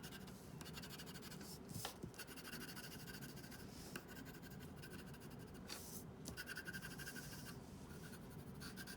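Colored pencil scratching across paper in steady back-and-forth strokes, a soft continuous rasp with short pauses between passes, close and alone with no talk.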